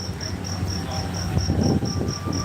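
A cricket chirps in steady, evenly spaced pulses against a low background rumble, somewhere in Da Nang, Vietnam, with no talking.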